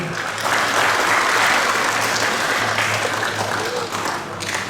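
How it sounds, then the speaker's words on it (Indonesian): Applause from a church Sunday school Christmas celebration at GIDI Emaus Mulia, Puncak Jaya, a sustained burst of many hands clapping together that fills the room, with a low steady hum underneath. "Kita tepuk tangan betul."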